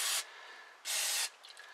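Carb cleaner is sprayed from an aerosol can onto the carburetor parts of a 1969 Ford Club Wagon, in two short, close, sharp hissing bursts with a brief pause between them.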